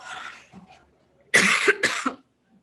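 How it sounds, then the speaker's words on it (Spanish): A person coughs: a faint early burst, then two loud, close, harsh coughs in quick succession near the middle, followed by silence. "salí negativo, pero tengo tos"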